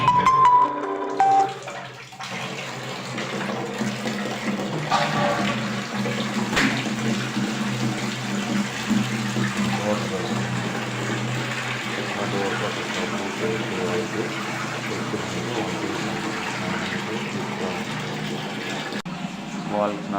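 Water runs steadily and fills a container for a hot-water bath at an old age home, a continuous rushing wash lasting most of the stretch.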